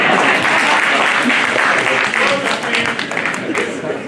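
Audience applause fills a public meeting hall in Jersey City Heights, a dense, steady clapping from many people that holds at full volume throughout and tapers only slightly near the end.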